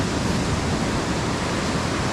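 Ocean surf at high tide on a beach, a steady broadband wash of breaking waves that stays loud and continuous throughout, with no voices present.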